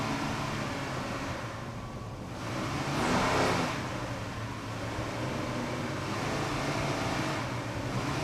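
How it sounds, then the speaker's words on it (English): A 38-foot Fountain racing powerboat with twin Mercury 500-horsepower inboard engines runs at the 2002 APBA World Championships. Its loud, steady engine roar swells briefly mid-clip as it surges past. "Mercury powered, 2 500-horsepower inboards"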